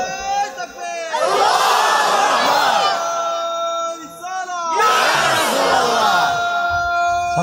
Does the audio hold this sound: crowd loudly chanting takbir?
yes